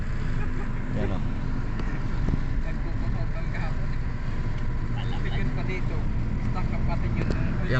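A faulty electric power steering (EPS) motor on a Hyundai Accent makes a steady, close grinding drone that runs continuously and fairly loudly the whole time, with no gaps.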